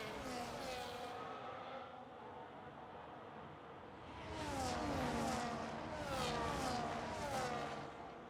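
Race car engines scream past one after another around the British Grand Prix circuit, rising and falling in pitch as they shift gears, loud and continuous with crowd-like background noise.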